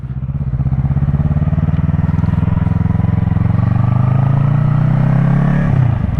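Loud, close motorcycle engine running steadily and rising slightly in pitch as gears are shifted, a constant throbbing drone that drops off at the end.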